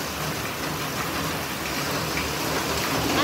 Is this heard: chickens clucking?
no